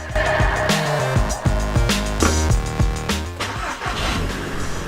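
A fire-damaged, restored Audi TTS Mk2 8J engine cranks with rhythmic starter pulses, then catches and settles into a loud, close idle in a garage.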